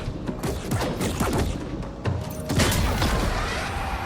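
Warrior grenade launcher firing in Death Stranding 2 during an underwater fight, a dense run of loud booming shots and thumps layered close together with no pause.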